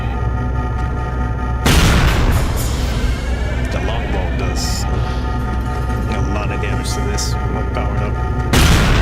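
A plasma grenade detonates in the PSP shooter Resistance Retribution, a sudden loud blast that rumbles on amid game noise and voices, followed by a second burst near the end.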